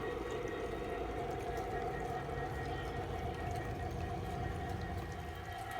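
A faint, steady mechanical hum and rumble of a small model train running continuously, with a high tonal whine underneath.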